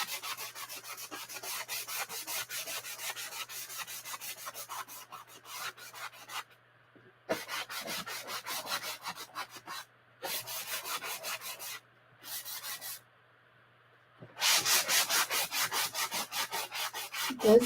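Wood is rubbed and sanded by hand to distress it, a close, steady back-and-forth scraping in repeated strokes, broken by several short pauses and ending in a louder burst of rapid strokes.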